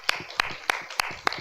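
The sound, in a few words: audience applause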